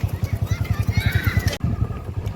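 A mare gives a brief whinny in the middle of a fast, regular thudding rhythm, near and fairly loud, with voices mixed in.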